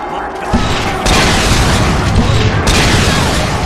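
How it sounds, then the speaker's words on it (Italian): A flashbang grenade goes off in Saints Row 2 with a loud, close boom that becomes a dense, roaring wash, and a second surge follows a moment later. "Chi l'ha lanciata quella flashbang?"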